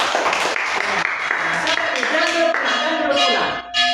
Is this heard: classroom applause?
yes